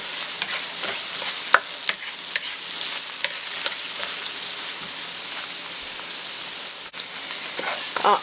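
Chicken fried rice being stirred in a hot pan: steady frying sizzle with scraping stirs and irregular clicks of the utensil, fairly close, no talking.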